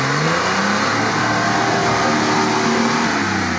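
A Nissan Patrol off-road vehicle driving over rough terrain, its engine revving hard and holding a loud, continuous drone close to the microphone.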